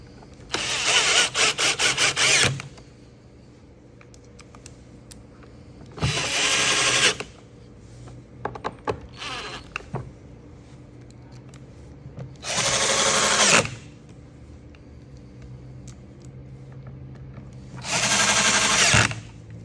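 A power driver drives four screws back into a vacuum cleaner housing. Four separate loud, whirring bursts, each lasting one to two seconds, are spaced by quiet pauses with faint handling clicks, all heard up close.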